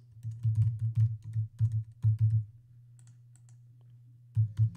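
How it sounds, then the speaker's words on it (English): Fingers typing a username and password on a computer keyboard, quick bursts of close clicking keystrokes with a short pause in the middle over a steady low hum, with no voices. "type your username and password into the two boxes"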